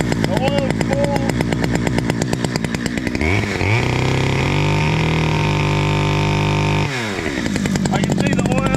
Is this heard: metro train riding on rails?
no